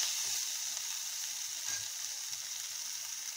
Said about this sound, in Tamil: இந்த இஞ்சி பூண்டோட பச்சை மணம் போகிற வரைக்கும் நல்லா வதக்கிக்கலாம்.